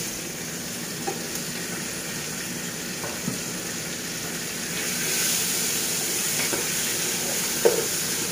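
Chicken sizzling in a pan with sautéed onion and garlic, a steady soft crackle and hiss that swells slightly midway, with a few faint clinks and no talk.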